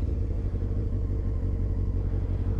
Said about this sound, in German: das Motorrad will losrollen und dann gebt ihr ganz leicht nur Gas